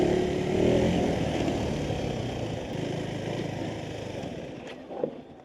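A KTM 390 Adventure (350cc) motorcycle engine runs and revs near the listener, a sustained buzzing drone that swells early then eases, with a short sharp blip near the end.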